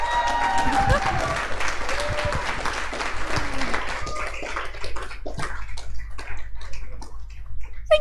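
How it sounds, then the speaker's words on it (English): An audience claps and cheers for a candidate taking the stage to give a speech, with loud, dense applause that gradually thins out and fades while voices carry on underneath. "seeing everybody sitting there and giving me a clap for democracy"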